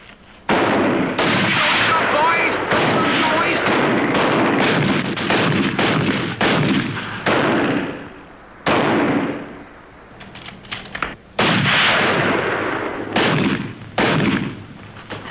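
Staged gunfire effects from a 1959 British naval radio comedy, bursts of rapid shots and booming volleys running almost continuously, loud and close, with a brief lull midway, while voices shout over the barrage.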